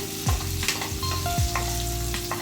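Dried red chillies sizzle in hot oil in a pan while a moringa fry is cooked. The frying sounds loud and steady and close, with a few stirring knocks and no talking.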